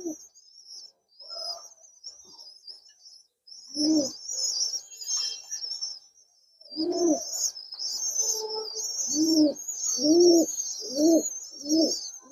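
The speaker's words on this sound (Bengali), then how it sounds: "আমার হাতে এখন একটা যে কবুতর আছে, এটা হচ্ছে গিয়ে একটা মেল কবুতর।" A male pigeon held in hand gives a run of low, throaty coos, sparse at first and then in a steady rhythmic series, while small birds chirp continuously and brightly in the background.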